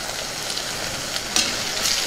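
Eggplant and pea curry with ginger-garlic paste being stirred in a sizzling pan, a continuous close hiss of frying with a couple of brief sharper scrapes of the spoon near the end.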